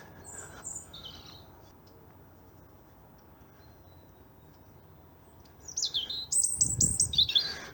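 Tits, a blackbird, sparrows and a robin sing in a Plymouth park woodland in winter: faint scattered chirps early, then brighter, louder calls near the end against a quiet, steady background.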